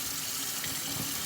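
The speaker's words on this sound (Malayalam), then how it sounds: "അപ്പം നമ്മളിതാ മാങ്ങ നല്ല രീതിയിൽ ഇതാ വാഷ് ചെയ്തെടുക്കാം." Mangoes are washed under a running kitchen tap, giving a continuous close splash and hiss of flowing water with small fluctuations as the fruit moves in the stream.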